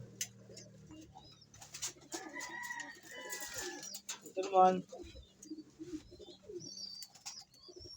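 A pet pigeon that returned home after being stolen coos softly a few times at close range, with people talking in Filipino over and around it.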